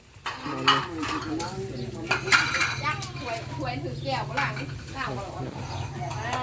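Metal utensils clatter and scrape against a Thai mookata pork grill pan and pots, a busy continuous clinking over a steady low bubbling and sizzling, with voices talking in the background.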